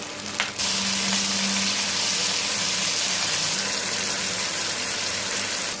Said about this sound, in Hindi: इसमें हम टमाटर ऐड करेंगे और टमाटर को भी हम 2 से 3 मिनट तक पकाएंगे